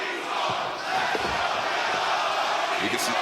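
A large wrestling arena crowd in Atlanta roars and chants continuously, a dense wall of voices split between sides, with occasional thuds beneath it during an AEW women's tag team match.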